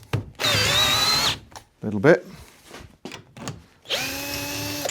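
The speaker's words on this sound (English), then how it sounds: "undo this using the drill." A power drill undoes a bolt on a boat, whirring in two sustained bursts, close and loud, with a brief spoken remark and some handling clatter between them.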